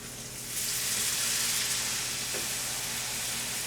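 Liquid poured into a skillet of gravy for smothered chicken, setting off a broad, steady sizzle and hiss that rises after a brief quieter start and holds close and loud.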